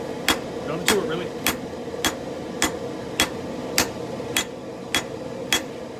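Hammer striking a hot steel knife billet with a straight peen to fuller it out: about ten sharp metallic blows in a steady rhythm, roughly every half second, ringing over a constant background rumble.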